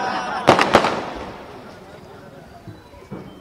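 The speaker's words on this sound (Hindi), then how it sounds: "शुरू हो गए तो बस नाम लेते ही और बज रहा। मैं पटाखे के बारे में बोल रहा।" Firecrackers go off in a short crackling burst of a few sharp pops near the start, followed by fainter distant bangs, with a crowd murmuring in the background.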